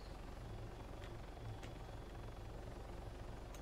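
A helicopter idles at a base in the military video game Arma 3, its engine a steady, continuous low rumble and rotor hum that stays even throughout, with no talk over it.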